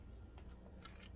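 Scissors snip the edges of a folded paper accordion, a few faint crisp cuts in a quiet room.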